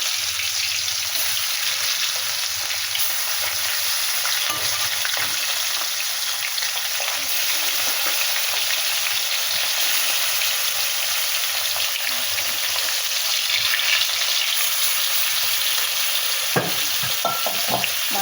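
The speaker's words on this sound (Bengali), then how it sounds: "মাছগুলো এবারে এইভাবে ভেজে নেব" Bhetki fish pieces, rubbed with turmeric and salt, fry in hot oil in a kadai, giving a steady, close, continuous sizzle with no speech.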